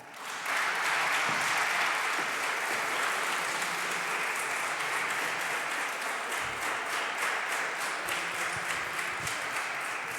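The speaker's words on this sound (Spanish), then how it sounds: "Un aplauso muy fuerte, va por vosotras." Parliamentary applause from a chamber full of members: sustained, even clapping that holds at a steady level for about ten seconds with no break.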